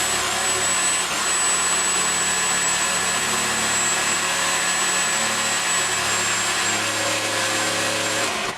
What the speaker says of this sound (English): Try angle grinding it.